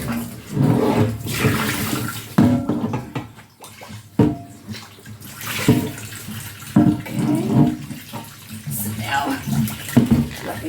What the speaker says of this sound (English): you need to rinse it thoroughly and get all the salt rinsed off